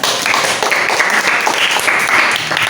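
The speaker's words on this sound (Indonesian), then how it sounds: "Berikan tepuk tangan untuk Ray" Classroom applause for a student after a poetry reading, a steady wash of many hands clapping close and loud throughout, with no talk over it.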